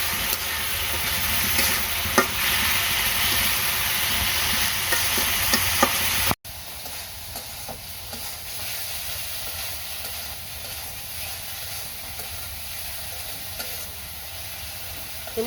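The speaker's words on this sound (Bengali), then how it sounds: "মশলা কষানো হয়ে গেছে" Spice paste (masala) seasoned with a little salt sizzles loudly in a pan while being sautéed and stirred, a dense steady hiss that drops abruptly to a quieter, continuous sizzle partway through.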